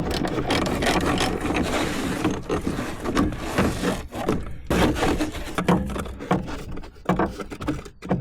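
A ratchet undoes the top mount bolts on an Audi A1 during shock absorber replacement, giving rapid, close mechanical clicking in repeated bursts with brief pauses between them and no talk.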